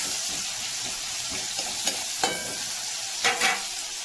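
Chopped brinjal frying in a hot pan with dried chilli and five-spice tempering, a steady broad sizzle with occasional sharp crackles and stirring scrapes, close and fairly loud.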